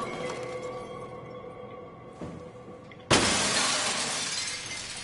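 Safety glass shatters in the underwater sci-fi game SOMA, a sudden loud crash with a bright spray of breaking fragments that lingers, following a quieter stretch of low ambient hum and a faint knock.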